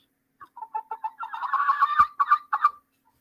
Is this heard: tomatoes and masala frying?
no